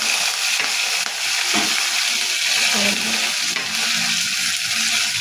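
Urad dal, mustard seeds, cumin and curry leaves tempering in hot oil for a spinach dal give a loud, continuous close-up sizzle and crackle, with occasional soft stirring noises.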